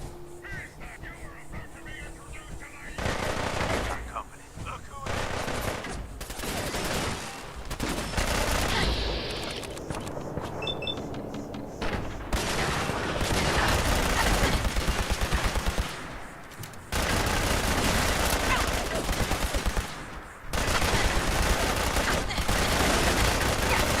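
Gunfire from the Fallout video game crackles in repeated bursts over dense game sound, loud and near, with brief breaks between volleys.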